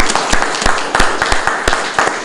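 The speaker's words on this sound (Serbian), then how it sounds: "da vas zamolim da ga pozdravite jednim velikim aplauzom" Applause from an audience at a ceremony marking the 52nd anniversary of the National Museum in Palanka, a dense patter of many hands clapping steadily at close range.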